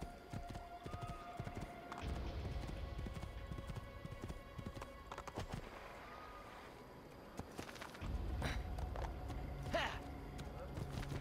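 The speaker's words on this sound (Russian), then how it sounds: "Давай, лошадка, веди меня." A horse's hooves clip-clop at a brisk gait in the video game Assassin's Creed II, a steady rhythmic clatter heard throughout. A person talks over the hoofbeats.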